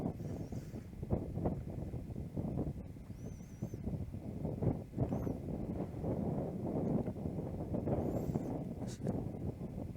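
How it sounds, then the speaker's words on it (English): Gusty gale-force wind buffets the microphone on an outdoor disc golf course, a loud rumbling roar that surges and eases over several seconds with faint rustling and a few chirps. "That wind is still blowing a gale."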